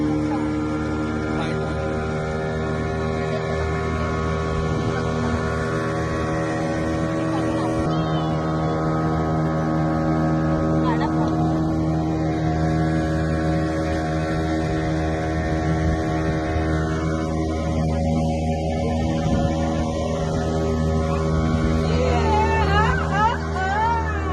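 MTDC scuba diving boats at Malvan run a steady, droning engine hum with strong low tones. It holds level for the whole stretch, while faint background chatter and general bustle carry underneath.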